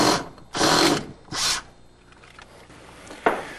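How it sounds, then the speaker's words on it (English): A power drill whirs in three short bursts while drilling sensor holes in a downflow furnace, the first burst longest, followed by quieter mechanical clatter and a final sharp burst near the end. "drilling the holes for the return, wet, and dry bulb sensors, and the supply temperature"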